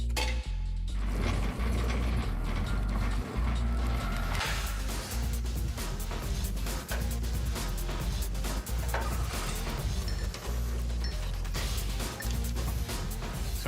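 Rear suspension parts being bolted onto a bare hot rod frame during a coilover conversion, with a ratchet clicking in quick, irregular bursts amid metallic clinks and clattering close by.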